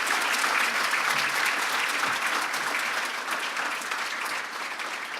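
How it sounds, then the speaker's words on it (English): Sustained applause from a large audience at a ceremony, steady and full throughout, tapering slightly toward the end. "By round of applause"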